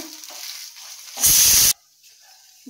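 Horse gram roasts in a pan over a medium flame while being stirred, a soft dry scraping rustle that swells into a brief loud hissing burst for about half a second, then settles back to quiet stirring.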